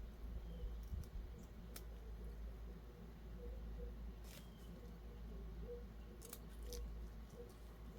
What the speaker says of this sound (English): Let me cut this.